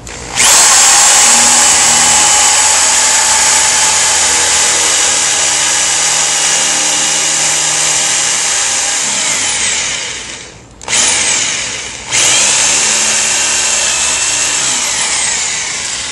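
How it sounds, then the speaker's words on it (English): A power drill with a wood bit whines loudly as it bores through a wood and plastic skirting panel, running continuously with a brief stop and restart near the end. "I'm gonna drill through this panel, both the wood and the plastic, with the wood drill bit."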